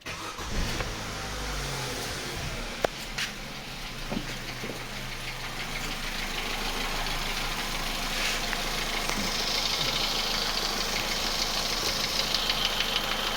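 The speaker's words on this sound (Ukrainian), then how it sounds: "Зараз я запущу машинку." A 2004 Opel Astra G engine turns over and settles into a steady idle, a continuous mid-pitched hum with faint knocking, close by and moderately loud.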